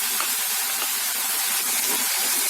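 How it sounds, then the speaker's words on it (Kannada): Tomatoes going into potatoes frying in a pan, heard as a steady, close, broadband sizzle and hiss with faint crackles throughout, no voices. "ಈಗ ಟೊಮೆಟೊ ಹಾಕೊಳ್ತಿದ್ದೀನಿ"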